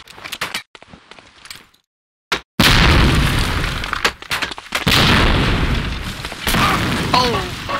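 A grenade bursts in the Medal of Honor: Allied Assault multiplayer game, a sudden loud boom after a brief silence, followed by rumbling debris and further gunfire-like cracks and clatter.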